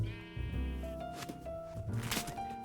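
A donkey in Minecraft brays and bleats in a couple of loud, wavering calls close by, over light background game sounds.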